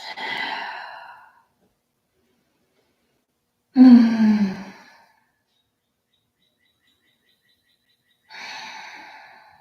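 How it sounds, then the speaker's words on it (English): Three slow, deep breaths during a yoga session, each an audible close exhale separated by quiet pauses. "And we take deep breaths."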